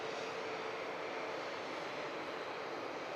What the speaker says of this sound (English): Air France A220. Taxiing past us here at the Runway Visitor Park.